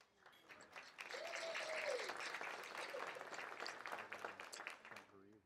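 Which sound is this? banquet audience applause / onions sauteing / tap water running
banquet audience applause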